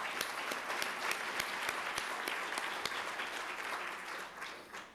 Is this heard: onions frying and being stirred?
no